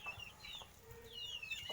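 Chickens at a backyard coop give soft, faint clucks and a few higher squawks, distant and brief, with no talk.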